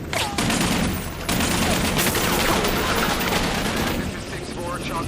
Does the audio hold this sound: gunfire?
yes